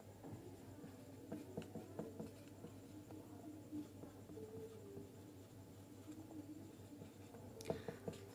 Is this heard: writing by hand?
yes